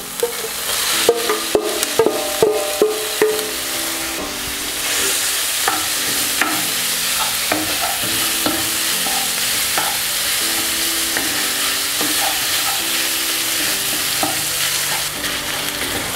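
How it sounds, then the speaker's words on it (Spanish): Ground beef fries in a pan for a Peruvian papa rellena filling, with a continuous loud sizzle and frequent scraping stirs throughout. Faint background music runs underneath. "Hay que ir moviéndolo bien para que no se vaya haciendo pequeñas bolas."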